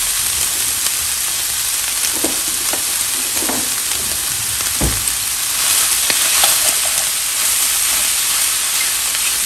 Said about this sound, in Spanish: en un sartén o en una cacerola vamos a ponerlo a calentar y vamos a agregar las tripas, las cuales ya están cortaditas